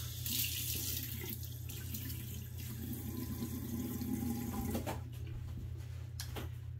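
A bathroom tap runs steadily into a sink as hands splash water onto a face, a constant hiss with a low hum beneath and a few brief splashes and clicks.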